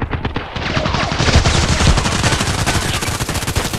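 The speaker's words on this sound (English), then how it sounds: "some shooting going on" Gunfire in the first-person shooter Contract Wars: loud, rapid automatic bursts and dense overlapping shots crackle continuously throughout, with no voices.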